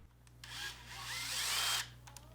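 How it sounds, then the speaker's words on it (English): A drill driver with an adapter spins up to tighten bolts on an electric standing desk frame, a single whirring burst of about a second and a half over a low background hum. "I also have an adapter that I can stick into my drill driver there and push it right on, and that allows me to tighten those up pretty quickly."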